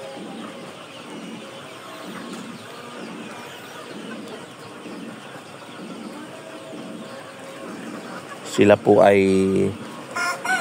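White purebred chickens on a poultry farm cluck steadily in a soft, continuous flock murmur under a person talking, with a louder burst of calls near the end.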